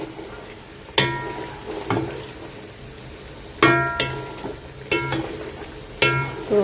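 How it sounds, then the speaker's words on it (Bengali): Potatoes lightly frying in a pan, a low steady sizzle punctuated by several sharp metallic clinks of a spatula at irregular intervals. "আলুটা হালকা ভেজে রাখছি"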